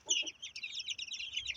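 A heavy rooster of about 5.7 kg, from a Turkish-bred hen, gives a quick run of high, nasal clucking calls, faint and close with a low farmyard hum beneath.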